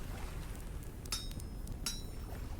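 Two bright metallic clinks of a hammer striking a copper saw blade on an anvil in the Vintage Story survival game, spaced under a second apart over a low steady background hum.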